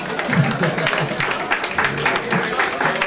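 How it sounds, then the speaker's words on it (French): Audience applause for Vladimir, a dancer from the Paradis Latin, at a 2014 event in Fleurus: a steady wash of clapping for about three seconds with a voice talking over it. "si on peut applaudir Vladimir"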